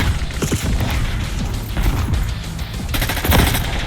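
Dense, chaotic gunfire in Call of Duty Black Ops 6, with rapid automatic bursts, heavy impacts and mechanical clatter overlapping close up, ending in a louder, brighter flurry of shots.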